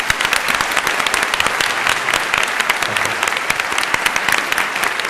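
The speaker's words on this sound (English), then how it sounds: "I'd like to invite a round of applause" A large debate audience breaks into sustained, dense applause, loud and close, with steady clapping filling the whole stretch.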